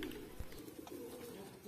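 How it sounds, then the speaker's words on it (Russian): Pigeons coo softly and steadily among gulls being fed by hand at a waterside in Rostov Veliky, with scattered faint bird calls and low background hum throughout. "Перед сном решили покормить крылатых. Только почему-то тут чаек больше, чем голубей."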